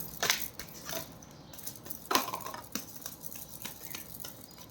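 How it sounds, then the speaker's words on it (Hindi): Tarot cards being shuffled, a few soft riffling and flicking bursts close by with faint papery rustle between them, no voice. "This is my one and last shuffle."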